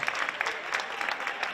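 Dense, steady applause from an audience at an award ceremony for a Tuna music competition in Cazorla, a continuous wash of many hands heard from some distance at moderate level.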